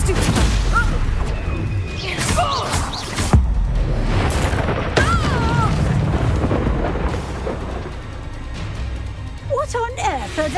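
Several booming Confringo spell explosions go off during a chaotic Hogwarts Legacy duel, with heavy blasts and crashes mixed among shouted spell names and excited voices.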